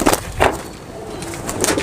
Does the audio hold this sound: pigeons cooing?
yes